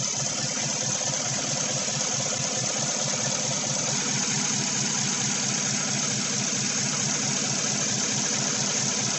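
A 2016 Chevy Silverado 5.3 V8 idles with a cylinder misfire, giving a steady, close, continuous rumble with an uneven, lumpy pulse throughout.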